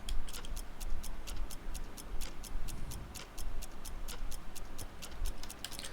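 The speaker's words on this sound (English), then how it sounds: "in the verse here I have added some clock ticking" Clock ticking in the verse of an electronic music track, with steady, evenly spaced crisp ticks over a full backing of bass and pads, no voices.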